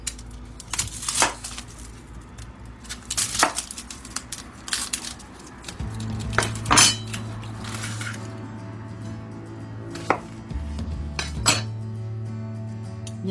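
A knife slicing a red onion into thin strips on a board, irregular sharp taps and clinks of the blade with a low background hum, no talking.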